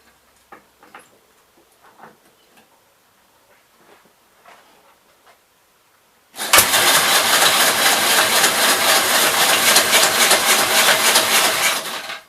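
A Gravely 65 LI walk-behind tractor engine tries to start after sitting for years: faint clicks and taps at first, then a sudden loud, steady engine roar that runs close for several seconds before cutting off.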